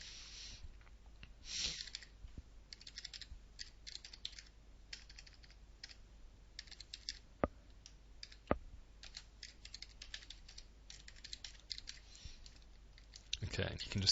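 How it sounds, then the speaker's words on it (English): Keys clack on a computer keyboard in irregular bursts of quick taps with short pauses, close and crisp, while a person talks in places. "just verify your email address by typing it again"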